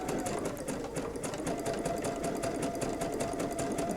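Sewing machine stitching a zigzag seam to close a two-tone tote, a fast steady mechanical whir with even rapid needle ticks, close and continuous throughout.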